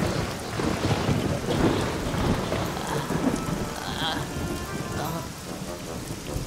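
Steady heavy rain with rumbling thunder in an animated cartoon storm, broadband downpour hiss filling the scene continuously at fairly loud level with no voices over it.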